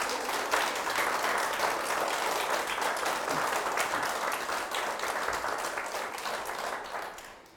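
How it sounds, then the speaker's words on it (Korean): Lecture-hall audience applause at a televised talk, a steady dense wash of many hands clapping throughout, tapering off at the very end. "여러분 정조한테 박수 한번 주세요."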